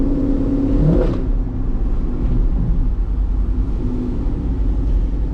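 A lowered GMC Sierra pickup with a cammed engine drives along, its steady low engine rumble and a brief rev near the start running continuously and close throughout.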